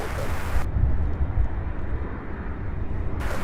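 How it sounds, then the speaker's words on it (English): A brand new Boeing 737 MAX 8 airliner arriving at Louisville International Airport, its steady engine roar loud and continuous throughout, heard from outdoors. "This one arriving from Phoenix, Arizona. It is a brand new 737 MAX 8."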